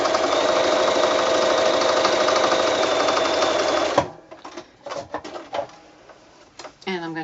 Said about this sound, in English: I'm going to do another line of sewing close to the outside edge fold